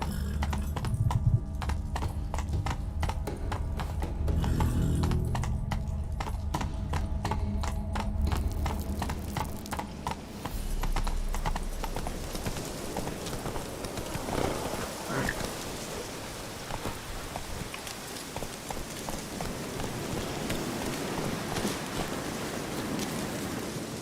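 A horse gallops in The Witcher 3, its rapid clip-clop hoofbeats carrying on steadily over a wet, rain-like hiss, loud and near with no talking.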